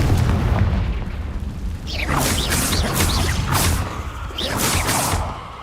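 Fiery spell blasts in Hogwarts Legacy, a series of booming bursts with whooshing crackle, loud and close, rolling one after another over a rumbling background.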